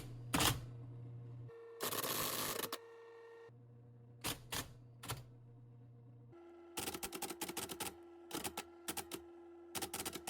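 An IBM Selectric II typewriter converted to work as a teletype prints in fast rattling bursts of keystrikes, separated by pauses and steady motor hum, close and loud with no voices.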